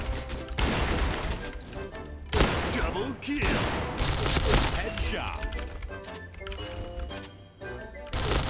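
Gunfire from a KRISS submachine gun in the shooting game Point Blank crackles in repeated rapid bursts, loud and close, separated by short pauses.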